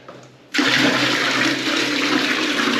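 A toilet flushes with a sudden loud rush of water that starts after a quiet moment and keeps roaring steadily to the end, with no talking.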